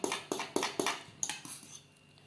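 A fork breaks up a block of frozen molokhia in a metal pot, giving a run of sharp, close scraping clinks with a few quick hits, then quieter, fading scrapes.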